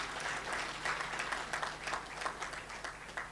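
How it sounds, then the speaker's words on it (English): An audience at a university graduation ceremony gives a round of applause, with individual claps audible in an uneven, moderately close patter and no speech. "Give them a hand of applause."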